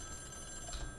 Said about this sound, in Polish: Mogę odebrać telefon?